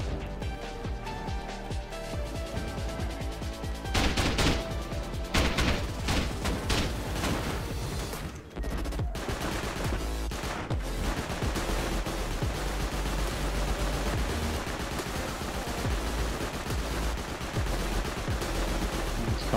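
Auto turrets in the game Rust fire in sustained automatic bursts while being drained during a raid on a large circular base, loud and dense, with a brief lull before the rapid shooting resumes and continues steadily to the end.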